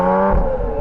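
Audi SQ5 engine, heard from outside the car, holding a loud, steady drone with rich low harmonics through a short span of throttle blips, close and unaccompanied by talk.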